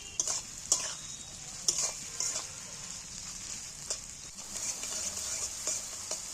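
Salted onion fries in a pan for a chicken curry, a steady bright sizzle broken by repeated spatula scrapes and taps against the pan, near and moderately loud.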